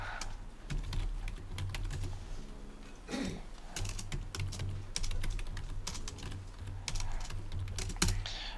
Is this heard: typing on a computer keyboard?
yes